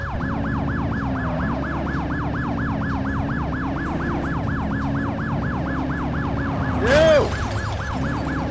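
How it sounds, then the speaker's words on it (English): Police car siren in the video game The Precinct, a loud continuous wailing sweep repeating steadily throughout with a sharp rising whoop near the end, over low engine rumble. "when responding to an emergency, activate your lights and siren"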